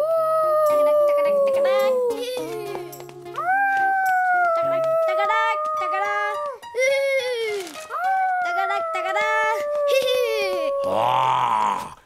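A voice imitates a wolf in a cartoon, sustaining long wavering howls one after another, loud and close, with brief pauses between them.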